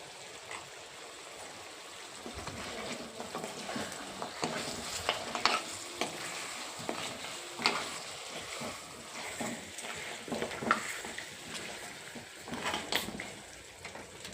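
Goat trotters (paya) with turmeric sizzle and fry in a pan for a Telangana curry, a soft steady crackle broken by repeated scraping stirs, fairly quiet and without talk.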